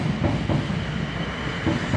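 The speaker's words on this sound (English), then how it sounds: "There we go, here comes train." A train running past the level crossing at Farnham Station, steady rolling rumble with faint rhythmic wheel clatter over the rails, continuous and fairly close throughout.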